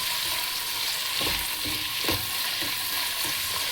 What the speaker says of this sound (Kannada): ಹಸಿ ಸ್ಮೆಲ್ ಹೋಗೋವರೆಗೂ ಸ್ವಲ್ಪ ಇದು ಫ್ರೈ ಮಾಡಬೇಕು